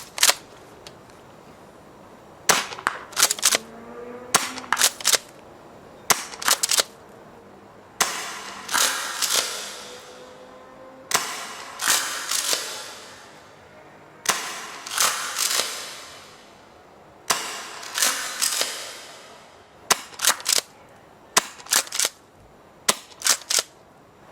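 A Tokyo Marui M870 airsoft shotgun fires 0.28 g BBs, three per shot, giving sharp snapping reports in loose bursts of two or three, with pump-action racking between shots, close and loud, no talk.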